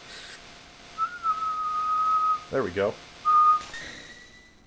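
A person whistles by blowing out, holding a long steady tone, then a short second one, with a brief spoken phrase between them.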